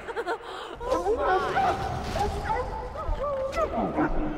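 Dogs in the video game Dragon Age: Origins bark, yip and whimper in a lively cluster of overlapping calls, fairly close and repeated throughout.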